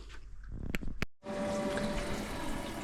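Water gushes steadily from a motorhome tap after a short burst of handling noise and a brief pause, a close, continuous running flow that fills the rest of the clip.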